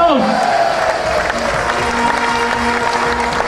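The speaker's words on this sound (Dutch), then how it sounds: "Applaus!" Applause from a crowd at a municipal key handover ceremony in Helden, steady clapping throughout with a faint tone and some voices underneath.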